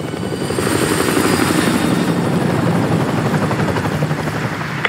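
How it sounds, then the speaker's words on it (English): A helicopter in Call of Duty Modern Warfare 2 passes low and loud overhead, its rotor chop a steady, dense thumping that holds for several seconds with no talk. "Chopper inbound, keep low."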